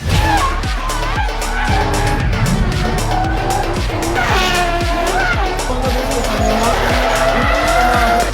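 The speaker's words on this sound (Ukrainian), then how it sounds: "Машинка проїжджає, переход." A drift car's engine roars loudly and continuously nearby at the Open Drift 2025 event, with tire squeals and revving pitch sweeps.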